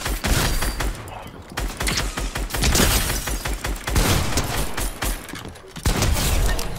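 Rapid bursts of video game gunfire crackle almost nonstop, loud and dense, with a few brief lulls between sustained volleys.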